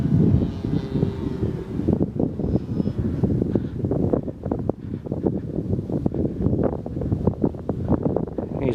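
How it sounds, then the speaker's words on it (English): Strong wind buffets the microphone at a model aircraft flying field on a gusty day, a loud continuous rumbling roar with fluctuating gusts throughout, no voices. "It's blowy up there, Al."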